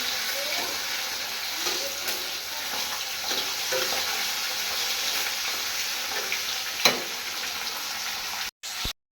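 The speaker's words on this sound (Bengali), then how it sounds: "একটু কড়া করে ভেজে দেবো" Fish frying crisp in a pan in a home kitchen, a continuous sizzle with occasional stirring clinks, one sharper knock near the end before a brief cutout.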